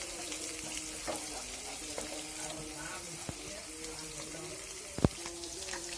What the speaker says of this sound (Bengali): দেখেন চুমকুম স্টাইলে পেঁয়াজটা নাড়াচাড়া দিচ্ছি